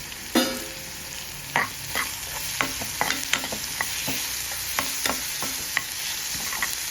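Onions fry with salt in a pan, a soft steady sizzle under repeated scraping clicks of a spoon stirring them, close and moderately quiet, with no voices.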